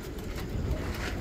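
Deobandi pigeons for sale give soft, low cooing murmurs, a steady flock rumble close to the microphone with faint background noise.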